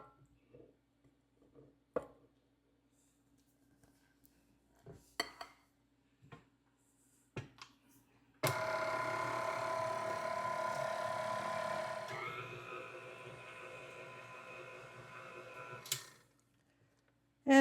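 An electric mixer beats caramel sheet cake batter with flour mixture and buttermilk, a steady whirring drone lasting several seconds after scattered clinks and taps against the bowl.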